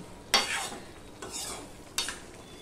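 Mutton curry is stirred and fried in a pan over a fairly high gas flame, with a few distinct scraping stirs over a steady soft sizzle.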